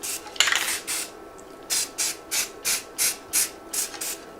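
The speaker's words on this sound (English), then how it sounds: "I'm trying to spray on there and it's coming out empty" A nearly empty can of black primer spray paint sputters out a string of short, uneven hissing bursts at close range, each puff breaking off before the next.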